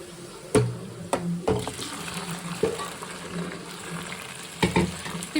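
Chicken for a natukodi curry drops into a hot pan of browned onions and tomatoes and sizzles, with several sharp clanks of a spoon against the pan as it is stirred, close and fairly quiet.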